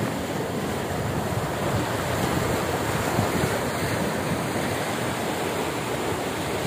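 Sea waves at Kondura beach in Khanoli roll in as a loud, continuous wash of surf mixed with wind rumble, with no voices.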